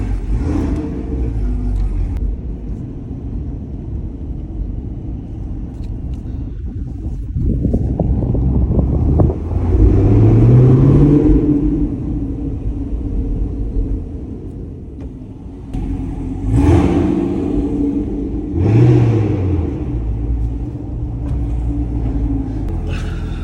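A 2019 Chevrolet Camaro ZL1 1LE with a six-speed manual and Corsa Extreme cat-back exhaust rumbles steadily while driving, swelling into two or three loud revving pulls with wind noise over the low drone.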